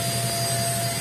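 A vacuum cleaner runs at home, a steady loud whirring motor hum with a low droning tone and constant airflow hiss, holding even throughout.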